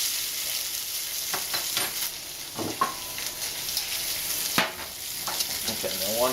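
Pork belly for mei cai kou rou browns in a pan with a steady crackling sizzle, broken by scattered scrapes and knocks of a utensil stirring and turning the meat.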